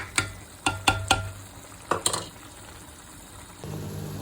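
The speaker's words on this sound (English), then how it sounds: "the minced meat is nearly cooked. I'm going to give it about another 10 minutes." Minced meat for a spicy spaghetti bolognese fries in a pan. Several sharp clacks and scrapes of a spoon against the pan sound close by over a low sizzle, and then a quieter, steadier frying hiss follows.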